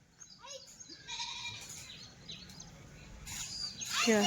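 Goats bleat several times on a farm where sheep and goats graze near a wire fence, calls rising toward the end over a steady low rumble, with some bird chirps in the background.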